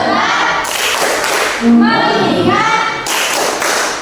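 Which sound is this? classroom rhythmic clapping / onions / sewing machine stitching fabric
classroom rhythmic clapping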